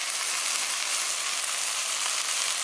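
Bite-sized pieces of steak fry in a small pan at a wild camp, a dense, steady hiss and crackle of sizzling fat filling the moment, close up with no voices.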